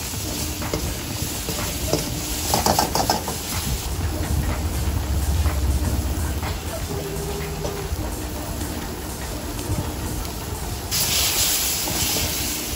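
Paneer pieces cooking slowly in a special masala and Punjabi gravy for street-food bamboo biryani in Surat, giving a steady hiss and bubbling sizzle with occasional stirring clatter amid a busy street background, no talk.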